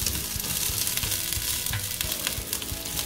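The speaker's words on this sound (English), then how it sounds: "Just fry them well." Chicken and vegetables, including broccoli, fry in a pan, giving a dense, constant close sizzle with spatula stirring knocks underneath and no talking.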